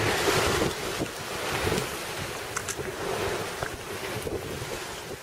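Howling Hurricane Maria wind roars continuously against the microphone on St. Croix, with surging surf and rushing gusts rising and falling, broadband and loud throughout.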